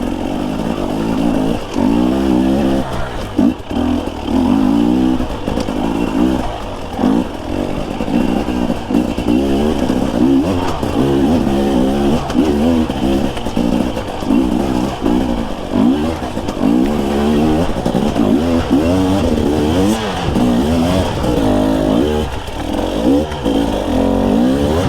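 Dirt bike engine revving hard and continuously while riding off-road, a loud, rough motor note rising and falling with throttle and gear changes throughout, no talking.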